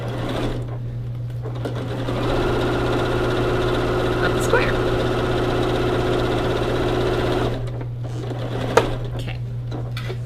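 A sewing machine stitches quilt squares for an easy springtime baby quilt, its steady motor hum running for several seconds with a low constant drone, then stopping briefly before a short burst resumes.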